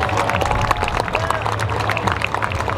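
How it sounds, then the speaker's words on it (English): An air show crowd at Tampa applauding the Para Commandos parachute team: a steady patter of scattered clapping mixed with murmuring spectators outdoors, moderately loud and continuous. "Let's give them a big round of applause."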